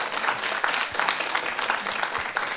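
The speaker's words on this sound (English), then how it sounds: "Let's all give another big round of applause for all the students who've done such a wonderful" An audience applauds the students at an annual cultural program, with steady, dense clapping that stays fairly loud and continuous for a few seconds without speech.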